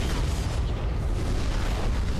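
In a first-person video game, a gas pipe explodes into a loud, dense, sustained roar of blast noise with continuous rumbling debris that fills the entire stretch, with no voices over it.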